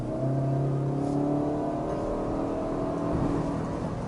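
A 2021 Proton Persona Premium with a CVT accelerates steadily, its engine droning at a high, sustained pitch that climbs smoothly without gear shifts, close and loud throughout.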